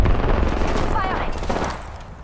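Rapid bursts of weapon fire in Apex Legends, loud and continuous with explosive booms layered over a busy game mix and some faint voice.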